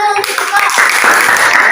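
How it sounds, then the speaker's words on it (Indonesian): Students clapping in an Indonesian classroom during a science lesson, a short burst of sharp, close hand claps that starts abruptly and carries on loud and uneven, with a voice audible at the start. "Oke, tepuk tangan dulu."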